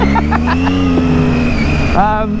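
A Triumph Daytona 675 motorcycle engine close by revs sharply once with a rising whine, over a continuous rumbling idle.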